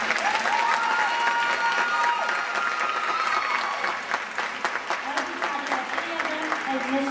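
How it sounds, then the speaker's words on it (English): Pageant audience applauds the contestants at a Miss Memphis and Miss Shelby County crowning, sustained dense clapping with light cheering that eases toward the end while a voice carries over it. "So please give them all a round of applause."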